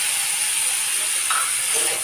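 Chopped onion and tomato fry in a pan over a medium gas flame, producing a steady, bright, close hiss of sizzling that continues unbroken throughout.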